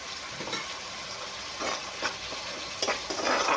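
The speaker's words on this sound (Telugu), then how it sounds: "మసాలా బాగా ఫ్రై చేయాలి." Masala with onion, tomato, ginger and garlic frying and being stirred in a pan for an Andhra-style mutton intestine curry: a steady sizzle broken by several scraping stir strokes.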